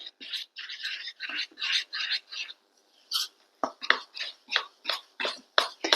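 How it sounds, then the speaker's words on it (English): Whole milk being stirred into biscuit-style dumpling dough for chicken and dumplings, close by: a steady run of rhythmic scraping, wet strokes in a bowl, with a brief pause partway through. "Then we're going to add 2/3 cup of whole milk. I'm going to stir that."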